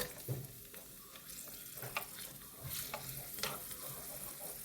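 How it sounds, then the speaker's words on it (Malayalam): Cashews and raisins frying in hot ghee, a soft steady sizzle with occasional stirring scrapes, close up and alone. "ഒന്ന് മൂത്ത് വരട്ടെ അണ്ടിപ്പരിപ്പും മുന്തിരി."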